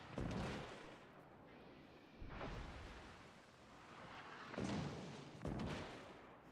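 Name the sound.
battleship gunfire in video game World of Warships Legends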